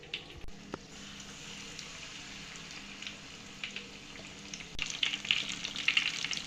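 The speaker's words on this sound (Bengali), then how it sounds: "আমার চুলোর ফ্লেমটা লো ফ্লেমে রেখে এইভাবে জিলিপিটা ভেজে নিচ্ছি" Apple jalebi frying in oil over a low flame makes a soft, steady sizzle with gentle bubbling and a few brighter pops near the end, quiet and without talk.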